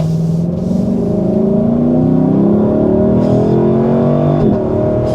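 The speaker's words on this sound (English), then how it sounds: "that was a sport mode acceleration" Lexus LC 500 grand tourer accelerating hard in sport mode, engine note climbing steadily through several gearshifts, loud and close from inside the cabin with no talking.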